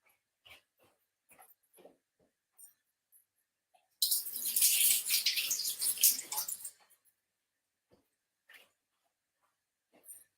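Running tap water splashing while something is quickly washed in a kitchen during pakora preparation, a brief burst of a few seconds between quiet clicks and small sounds.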